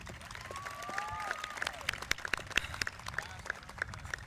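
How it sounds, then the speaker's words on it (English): Audience applauding at an outdoor graduation ceremony, scattered distant clapping and a few whoops heard faintly through a roomy background. "Give yourselves a round of applause."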